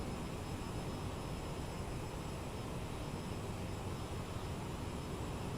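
A steady, broadband whoosh of CRJ900 jet engines in cruise inside a flight simulator, an even, unbroken drone at moderate level with no talk.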